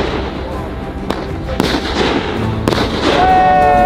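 Fireworks bursting over water at night on an island, with several sharp cracks and booms in a row close by, followed by a rising whistle, while people talk excitedly.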